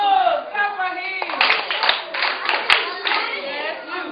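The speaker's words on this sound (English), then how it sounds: "Your nose, clap for him." Children in a school classroom clap for a classmate in short bursts of scattered hand claps, with an adult voice and children's voices speaking over and between them.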